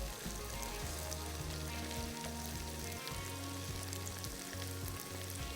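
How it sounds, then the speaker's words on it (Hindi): Cardamom, cloves and cinnamon fry with onion in hot oil, a dense, steady sizzle close up with crackling and occasional stirring, no talk. "इसको थोड़ा सा हमने फ्राई करना है ताकि स्पाइसेस का जो अरोमा है वो प्याज के अंदर आ जाए अच्छा सा"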